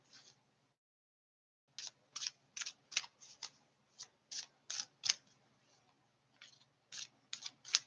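Tarot cards shuffled and pulled from the deck, a series of quick crisp riffling snaps in irregular bursts, close and fairly quiet after a short silence.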